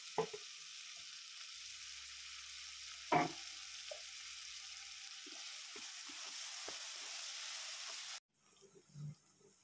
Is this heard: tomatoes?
yes